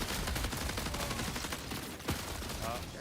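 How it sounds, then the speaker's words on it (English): Explosions and gunfire in a video game rattle continuously at close range, a dense burst of shots and blasts with a sharper crack near the end, while faint talk runs underneath. "Oh my god, so many explosions!"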